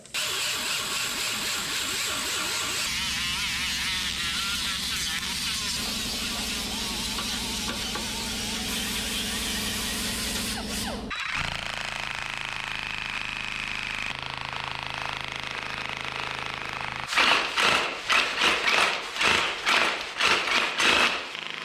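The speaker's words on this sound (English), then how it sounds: "We're gonna grind a little more on the outside to smooth it out with the Rolock" An abrasive Roloc disc on a die grinder smooths welds on a 1976 GMC short bed truck, a steady whining grind that shifts pitch as pressure changes, ending in several short rhythmic bursts.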